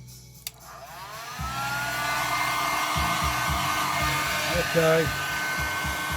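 A hair dryer blows steadily while heating a Lambretta scooter stator during a rebuild, a continuous close whoosh running for most of the clip, with a few mechanical clunks and a brief spoken word over it.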